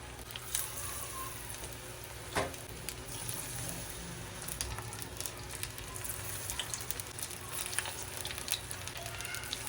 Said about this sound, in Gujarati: આપણે એમાં આ રીતે રાઉન્ડ ભજીયા તળવા માટે નાખી દેવાના છે